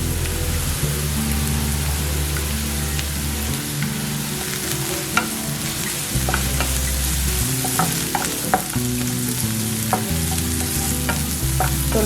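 Onion, three green chillies and curry leaves fry steadily in a pan for flat bean palya, a dense continuous sizzle with scattered crackles and occasional scraping stirs, loud and close throughout.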